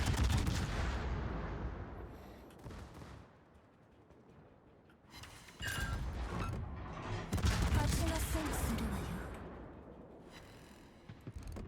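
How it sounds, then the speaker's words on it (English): Naval artillery from a Hindenburg cruiser in a World of Warships Operations battle fires in heavy booming broadside volleys, with loud bursts arriving in clusters and rumbling decays between salvos. "we're gonna push up this way and just broadside these two"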